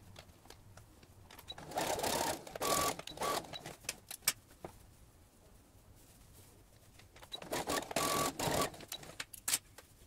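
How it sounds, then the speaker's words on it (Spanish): Sewing machine stitching a seam on a fabric multipurpose bag, running in two rapid buzzing bursts separated by quieter pauses with faint handling noise, close and moderately loud. "vamos a doblar hacia adentro y vamos a hacer una costura aquí"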